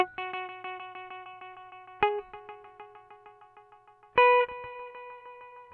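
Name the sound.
BOSS RE-2 Space Echo pedal echo repeats, intensity adjusted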